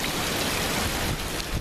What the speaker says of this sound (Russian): Водичку пустили. Подойду ближе. Красивый такой фонтанчик.